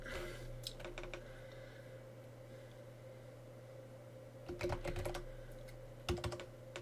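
Quiet keystrokes on a computer keyboard while a password is entered at a Windows Server 2016 login, a few scattered taps early, then two quick clusters of clicks near the end over a low steady hum.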